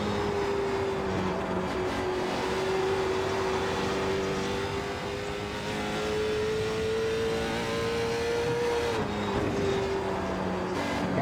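A 305 sprint car engine in iRacing holds a steady, loud drone for the whole stretch, with one tone rising slightly and then dipping near the end as the car lifts and gets back on the throttle, and no voices.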